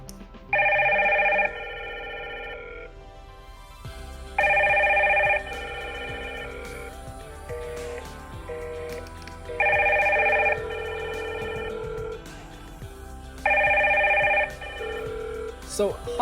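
Two Hikvision video intercom indoor stations ring together after a door station call button is pressed, giving four bursts of a bright electronic two-tone chime at regular intervals, each followed by a softer melodic tail, over low background noise.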